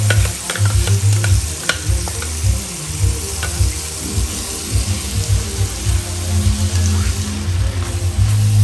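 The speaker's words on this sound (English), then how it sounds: "We are going to saute this for about 2 minutes" Roughly chopped vegetables with habanero peppers and ginger are sautéed for stewed turkey wings, producing a loud, close, steady sizzle with a low rumble and occasional clinks of stirring, no voices.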